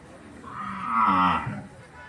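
A single long, deep moo from cattle at a livestock market in Jangareddygudem, rising and then fading over about a second, moderately near against a low background murmur.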